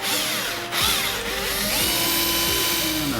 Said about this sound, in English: 1/8 inch drill bit